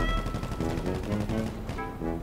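Rapid gunfire in GTA 5 Online, with bursts crackling steadily through the whole stretch amid dense game noise and music-like tones, loud and continuous with no clear pauses.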